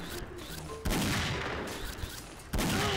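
Gunfire in the shooter game XSHOT, with AWP sniper rifles: two loud, sharp shots about a second and a half apart, each with a ringing decay, and a faint voice underneath.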